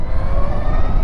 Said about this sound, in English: I don't know if you guys can hear the whining from the engine.